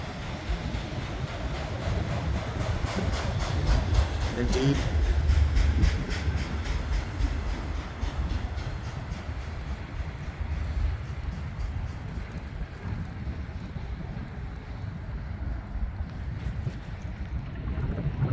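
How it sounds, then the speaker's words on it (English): A freight train rolls past nearby, its wheels keeping up a continuous low rumble and clatter that holds steady as the last cars go by, with a single brief spoken word. "So here's the end of the first train,"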